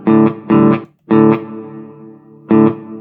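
An electric guitar played through a Sonicake effects pedal with reverb sounds strummed chords in short bursts, one chord ringing out and decaying, distorted and close with no talk.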